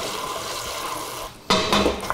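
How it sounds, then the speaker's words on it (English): Pasta water for a pasta alla gricia sauce is ladled into a pan: a steady watery hiss first, then a brief lull, then a sharp metallic clatter and splash. "You could also always add a little ladle of the pasta water in now."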